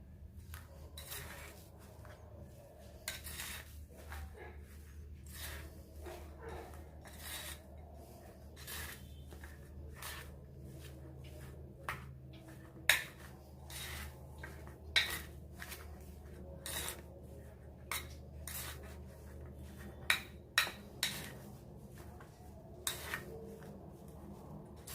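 Spoon scraping and rubbing in a bowl while coriander powder, chili powder and salt are mixed into an aloo paratha potato filling, repeated close scrapes and occasional sharp clinks over a quiet background.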